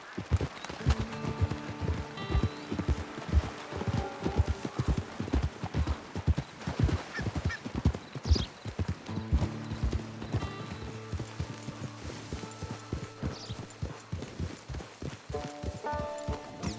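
Horse hooves clip-clop steadily through the whole stretch in the Red Dead Online video game, a close rhythmic walking gait of regular hoofbeats under a bed of game music and ambience.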